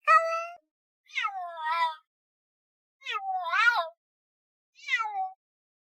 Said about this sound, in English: Cats talk to us one way and to each other in a whole different language.